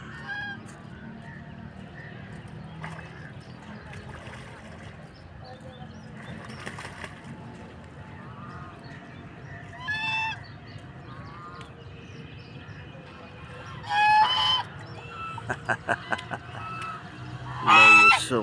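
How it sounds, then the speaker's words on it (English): Geese honk in short bursts, a few loud close calls and some quicker repeated honks over quiet outdoor background, mostly in the second half. "Love you so much, my sweet geese."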